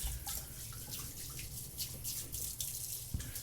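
Tap water runs steadily into a sink to rinse a razor, a close, continuous splashing stream with small drips and clinks.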